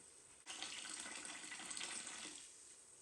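Water pours steadily into a clam chowder pot in a home kitchen. A sudden rushing stream starts after a brief pause, holds evenly for about two seconds, then tapers off, with no talking.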